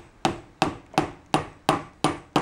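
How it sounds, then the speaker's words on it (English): A socket is hammered to drive an input shaft seal into a power steering gear box: seven sharp, evenly spaced metallic blows ring out close and loud, each decaying quickly before the next. "You're going to use the socket, put it in here, and you're going to hammer it."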